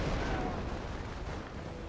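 A Firestorm artillery strike in Company of Heroes 1 rolls in as a continuous low, rumbling barrage of distant blasts, steady and moderately loud throughout.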